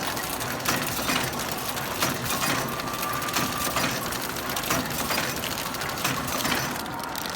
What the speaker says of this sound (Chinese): 然后我们按启动键。 对，跑一个袋子出来。